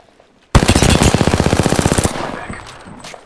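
Automatic gunfire in Apex Legends, a loud sustained burst of rapid shots lasting about a second and a half, then a trailing echo and fainter clatter.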